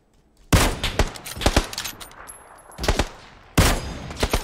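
Gunfire in PUBG, the battle royale video game, on the Taego map: loud, close bursts of rapid automatic shots in three separate volleys, with short quiet gaps between them.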